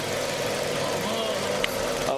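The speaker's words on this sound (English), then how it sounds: "Now the engine's misfiring." A car engine idles with cylinder 4 disconnected, running rough and misfiring with a steady uneven drone and small knocks, close to the microphone, while people talk nearby.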